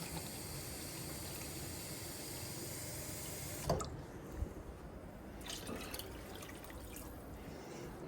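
Water pours in a steady rushing stream into a soup pot for chicken tortilla soup, continuing loud for several seconds before cutting off, followed by a few light clunks and drips.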